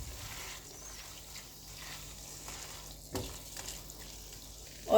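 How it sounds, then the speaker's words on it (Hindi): A spoon stirs soy sauce and sugar into a sauce for dragon chicken in a pan, giving a soft continuous sizzle and scraping close by with a small clatter at the end. "मिक्स करेंगे।"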